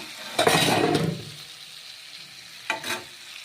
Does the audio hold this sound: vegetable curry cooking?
yes